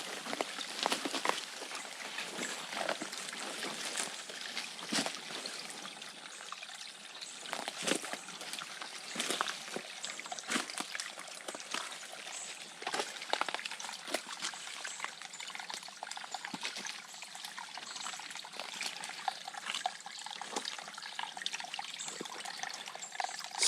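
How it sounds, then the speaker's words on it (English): Water trickles steadily out of the ground in a forest beside an old structure at San Felasco Hammock Preserve State Park, a soft continuous dribble with scattered small splashes throughout, fairly faint and with no voices. "Some flowing water over here"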